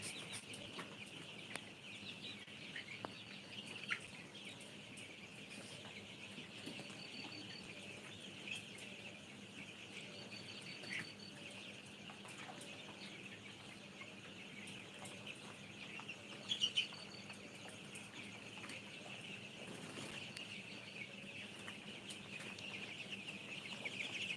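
A thousand 17-day-old colour-breed chickens on a poultry farm, their faint, distant clucking and chirping carrying over a steady, quiet insect-like hum.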